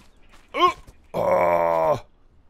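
In the Ylands video game a bird gives a short, rising caw and then a longer, harsh, groaning call. Both sound close and loud against near silence.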